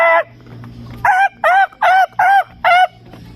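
A peacock gives a series of five loud, nasal honking calls in steady rhythm, close by, after one earlier call, at an outdoor spot in Tagaytay.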